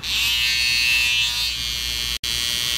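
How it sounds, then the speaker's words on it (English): A loud, steady Caliber Cocoa electric hair trimmer buzzes continuously, cutting out for a split second near the end before humming on again. "This is the Cocoa trimmer."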